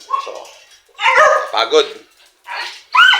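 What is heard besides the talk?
dog barking and whimpering at home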